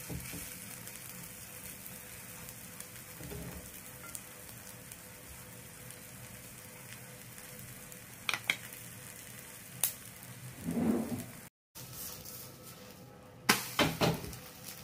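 A puffed rice and egg omelette fries on low heat with a quiet, steady sizzle, broken by a few brief clicks and clatters near the end.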